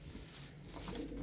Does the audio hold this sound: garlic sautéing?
no